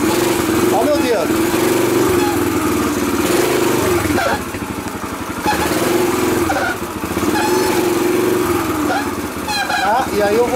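A Yamaha TTR125 dirt bike engine runs loud and close, its buzzing note rising and falling as the throttle is blipped, with someone talking over it.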